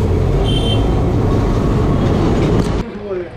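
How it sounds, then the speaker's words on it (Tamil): A Kolkata tram rumbles and clatters steadily along its rails at close range, loud and continuous, with a squeal and a drop in level near the end. "இதுதான் வந்து ட்ராம் ரைடு"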